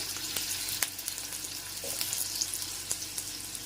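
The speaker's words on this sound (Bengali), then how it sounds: "আস্তে করে করে আলু ছেড়ে দিতে হবে" Potato pieces frying in hot oil in a wok on low flame for a pointed gourd and prawn dish, a steady close hiss with occasional sharp clicks of a spatula, no one speaking.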